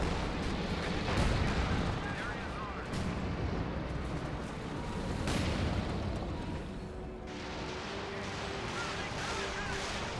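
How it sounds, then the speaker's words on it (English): Panzer Fusiliers fire in the Company of Heroes 2 video game, with dense battle noise of repeated gunshots and heavy booms layered throughout. It is loud and continuous, and no voice is heard. "Panzer Fusilier or Jhiaxus firing away"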